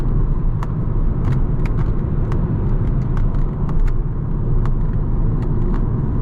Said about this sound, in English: The engine sounds okay.